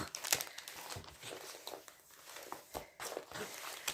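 A haul package being unpacked, with soft crinkling and rustling of plastic wrapping and a few tearing sounds, fairly quiet and close, with no one talking.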